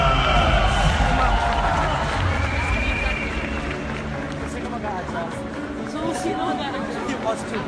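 Audience at the Miss Universe national costume show, a large crowd cheering and chattering as one continuous swell of noise, loudest at the start and easing slightly.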